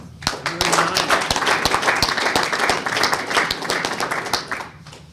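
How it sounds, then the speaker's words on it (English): A small audience claps at a parenting program graduation held in a prison, crisp individual handclaps building into a lively round, then thinning out and fading at the end, with a voice briefly present underneath. "another round of applause for Derek"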